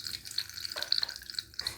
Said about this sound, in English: It was a fountain